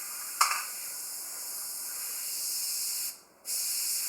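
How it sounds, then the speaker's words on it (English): An airbrush spraying paint onto a custom fishing lure, giving a steady close hiss that runs for several seconds, cuts out briefly, then resumes. "You got to keep your airbrush super clean."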